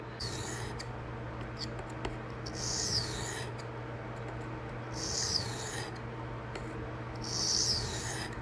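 Knife blade stroked across a Venev Phoenix diamond sharpening stone with 20/14 and 7/5 micron grits, producing a few separate raspy scraping passes, each about a second long, with low steady hum underneath and no talking.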